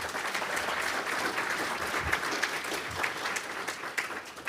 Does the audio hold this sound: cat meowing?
no